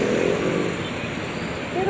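Motorcycle engines drone and rev steadily through a flooded street in traffic, close by, while someone talks over the noise.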